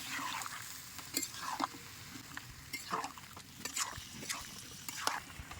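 Jackfruit and fat curry is stirred in a pan with a little added water: soft repeated scraping strokes about once a second over a low simmering sizzle, close and fairly quiet.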